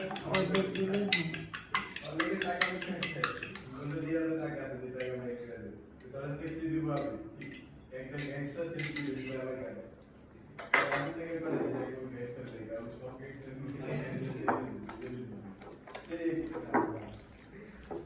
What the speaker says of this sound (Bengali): আমি এখানে একটা ডিম ফেটিয়ে নিচ্ছি